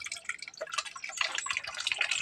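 Running water splashes and drips while dishes are washed, a soft, busy patter of small splashes over a couple of seconds, faint and without voices.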